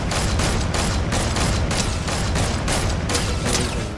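Semi-automatic gunfire in a video game, with rapid, evenly spaced loud shots cracking about every third of a second for four seconds over a dense, constant background roar.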